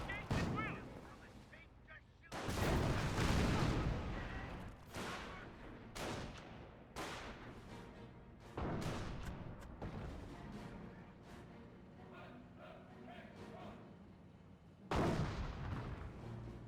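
Anti-tank gun blasts and battlefield gunfire in Company of Heroes 1, with repeated sharp booming shots and explosions spread across a busy fight, loud bursts separated by short rumbling gaps.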